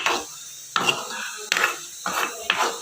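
Spoon scraping and clinking against a pan while stirring egg curry with coconut milk, several distinct knocks and scrapes in an uneven rhythm, close and fairly loud, no talking.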